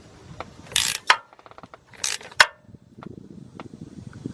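Metallic ratcheting clicks and scraping while bolts are tightened on the 5.3 engine of a 2006 GMC Envoy XL Denali, short bursts of wrench clatter with pauses, close and fairly quiet.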